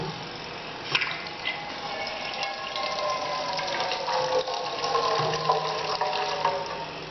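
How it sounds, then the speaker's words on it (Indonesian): Milk runs from the output tap of an electric milk pasteurizer in a continuous, splashing stream. The steady pour carries on alone for several seconds with small fluctuations in flow. "hasil dari produk susu ini sendiri bisa dikeluarkan melalui keran output"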